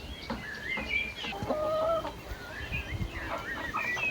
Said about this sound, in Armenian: Հավերս կուշտ են, հանգստանում են։